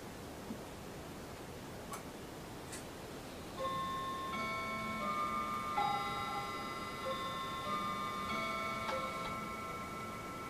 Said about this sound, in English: If you guessed a clock, you're right.